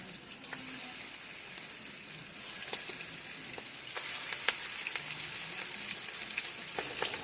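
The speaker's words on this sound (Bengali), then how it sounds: "তারপর আমি মাছগুলো একে একে ছেড়ে দেবো।" Fish pieces fry in hot mustard oil with a continuous, even sizzle and fine crackle, faint spatters popping over it throughout.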